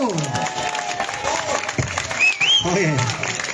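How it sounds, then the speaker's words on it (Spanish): A crowd claps and cheers at an outdoor evening dance in a town square in Onda, Spain, the applause rising in bursts under an announcer's voice and music. "Fuerte aplauso para Chimo."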